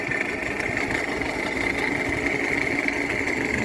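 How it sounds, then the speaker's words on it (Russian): A steady, close idle comes from the 2.5-litre engine of a 2015 Toyota Camry 55 assembled in Russia, with a rapid, even clatter running through it like a sewing machine, a faulty knocking tone that resembles a diesel. "Двигатель шумит, стук цокольный."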